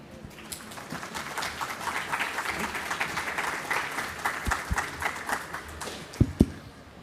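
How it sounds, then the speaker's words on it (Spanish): Applause from an audience at a book presentation, starting softly and swelling into steady clapping, with a few sharper close claps near the end. "Fuertes aplausos."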